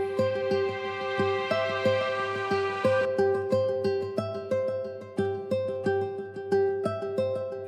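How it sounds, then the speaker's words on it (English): Nylon guitar ostinato from the Orchestral Tools Strand sample library, a steady repeating plucked pattern of bright, evenly spaced notes over a sustained harmonic bed, played alone without talk. "It's the nylon guitar from Orchestral Tools."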